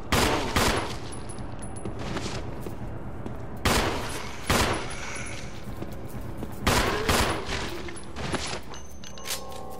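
Gunshots ring out in the Resident Evil remake video game, several loud sharp blasts spaced a few seconds apart, each with a ringing tail, with no talk over them.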